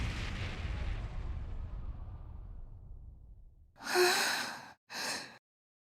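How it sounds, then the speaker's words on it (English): A distant boom from cannon fire in the video game Ys X fades into a long rumbling tail, then two short breathy bursts like sighs or gasps follow near the end. "Sounds like screaming. And cannon fire."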